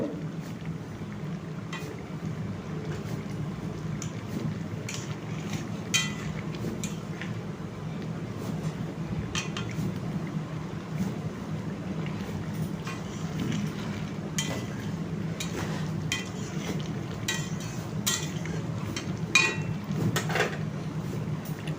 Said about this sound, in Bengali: এরপর কিছু আলুকে খুন্তি করে টিপে একটু ঘন করে নেব